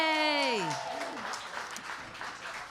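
Comedy show audience applauds and cheers for two contestants as a performer's drawn-out vocal note fades, clapping continuing at a moderate level to the end.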